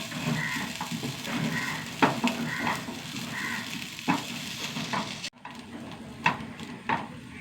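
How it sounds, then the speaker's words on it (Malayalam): Grated coconut with a couple of small shallots roasting over a low flame in a pan, a soft continuous crackle and sizzle broken by periodic scrapes and clunks of stirring, fairly close and without speech. "തേങ്ങ ഒന്ന് വറുത്തെടുക്കട്ടെ."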